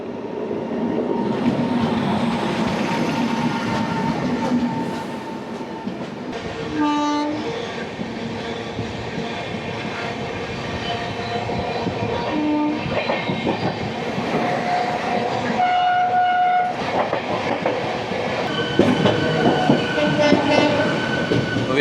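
A passenger train from Ranchi to Delhi rolls along in heavy rain, with a loud, steady rumble, rhythmic clickety-clack of wheels and several horn blasts sounding across the run.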